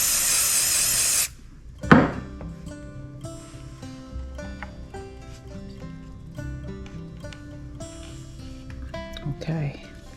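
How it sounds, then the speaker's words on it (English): A loud short hiss from a spray can of CA glue activator bursts out at the start, followed by quiet shuffling and small handling noises. "So I'm going to put CA glue here and here and spray it."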